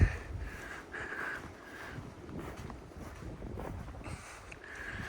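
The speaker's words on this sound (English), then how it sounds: "It's just windy and wet." Wind gusts buffet the microphone on a wet mountain trail in the Buller Huts area, rising and falling in rough, low rumbling waves with faint higher whistles, close and fairly loud, no voices.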